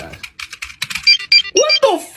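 Rapid typing on a computer keyboard, a quick, close run of sharp clicks at an uneven rhythm, with someone talking over the last part.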